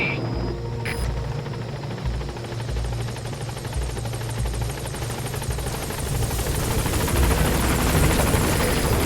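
A helicopter arriving at a landing zone in Metal Gear Solid 5, a loud, close rotor drone with a thumping, fluttering beat that grows slightly louder as it nears.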